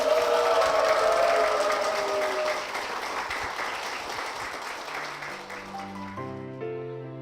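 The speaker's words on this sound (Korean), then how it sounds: "축복의 박수 부탁드리겠습니다" A church congregation gives a round of applause, dense clapping that gradually fades and thins out, giving way to sustained tones from a keyboard or music near the end.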